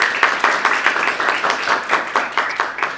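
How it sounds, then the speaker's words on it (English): An audience at a live enterprise user experience research event applauds steadily, many hands clapping in a dense, continuous patter that holds for a few seconds. "Please, round of applause."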